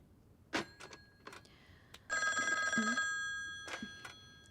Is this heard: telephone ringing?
yes